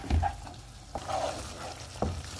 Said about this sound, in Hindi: अब इसको हम इतना पकाएंगे कि ये गाढ़ा हो जाए।